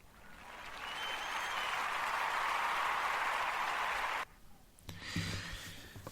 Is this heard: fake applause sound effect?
yes